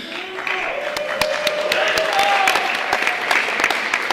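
Delegates at the Arkansas Boys State party primary convention applauding, a steady wash of many hands clapping that holds at an even loud level for the whole stretch, with a few sharper claps standing out.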